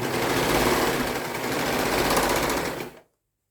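A serger sewing machine runs in a steady, loud whir while stitching a fabric welding cap, then cuts off abruptly near the end.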